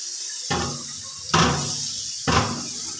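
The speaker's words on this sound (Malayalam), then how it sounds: "ഇനി ഇത് നല്ലതുപോലെ പച്ചവെള്ളം ഒഴിച്ച് ഇതൊന്ന് തണുപ്പിച്ച് മാറ്റി" Cold water is poured over cooked ada (rice flakes) to cool it in a kitchen, arriving as three separate splashing gushes over a steady running-water hiss, close by and with no voices.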